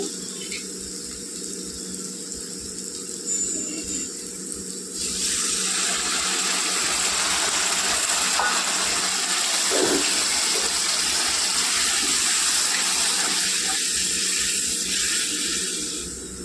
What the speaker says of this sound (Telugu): కొద్దిగా వాటర్ వేసుకోవాలండి